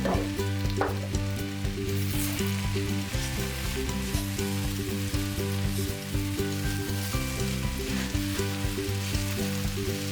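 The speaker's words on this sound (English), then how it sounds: "So we added that tomato paste and kind of cooked that" Cabbage and tomato paste cook in a pan with a continuous close sizzle and soft periodic stirring scrapes, over faint steady tonal background music.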